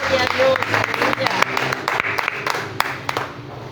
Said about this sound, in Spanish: Dale fuerte este aplauso al Señor en esta hora.